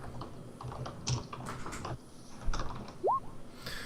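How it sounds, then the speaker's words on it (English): Fast, irregular clicking of a computer keyboard as someone types a chat message, close and clear, with short bursts of keystrokes and brief pauses between them. "I'm typing it in your chat"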